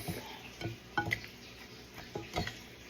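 Ingredients for a no-cook black bean wrap, with lime added, are stirred in a bowl, giving soft scrapes and a few light clinks in uneven strokes, quiet and close.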